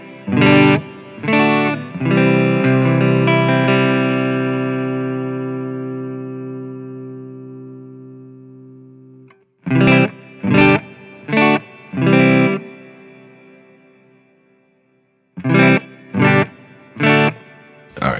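Electric guitar chords through a Line 6 POD Go strummed with a long, spacious reverb tail that rings out and fades, followed by several short repeated stabs.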